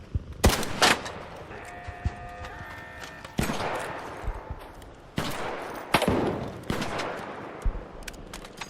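Turret gunfire in ARC Raiders, loud sharp bursts of shots and a rattling automatic volley at irregular intervals amid other combat noise.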